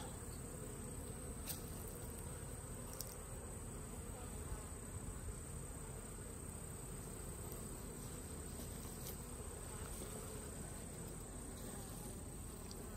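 A dense, continuous buzz of many honeybees hums close by at an open hive, with a few high chirping tones scattered through it.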